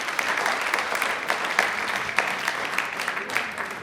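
Studio audience at a televised Rajasthani quiz show bursts into sustained, dense clapping that holds at an even, moderately loud level throughout, with no voices over it.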